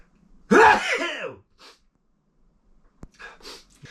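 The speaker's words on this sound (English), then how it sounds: "God, I'm gonna sneeze." A single loud, close sneeze bursts out sharply, followed by a few faint breaths and small rustles.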